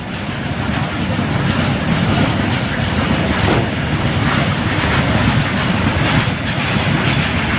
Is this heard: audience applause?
no